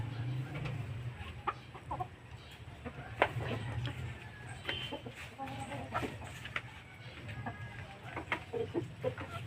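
Heritage chickens, Rhode Island Red and Black Australorp hens, clucking softly at a farm, a scattered run of close, low murmuring clucks over a steady background hum.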